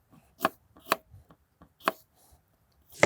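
A few sharp, separate knife strokes chop through a bell pepper onto a board, close and crisp, with short pauses between cuts.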